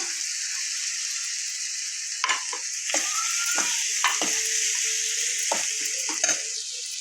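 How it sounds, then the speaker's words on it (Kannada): Vegetables sizzle and fry in a pan with tamarind juice, a steady bright hiss broken by repeated scraping clinks of a spoon stirring against the pan. "ಹುಣಸಿರಸ ಹಾಕೋದ್ರಿಂದ ಟೇಸ್ಟ್ ಕೊಡ್ತದೆ ಅಂತ ಹೆಚ್ಚಿಂದ ಸ್ವಲ್ಪ ಹುಣಸಿರಸ ಹಾಕ್ತೀನಿ"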